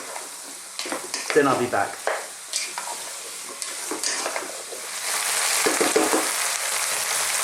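Carrot and ginger sautéing over medium heat, with scraping stirs early on and a steady sizzle that grows louder and more constant, while a voice speaks briefly.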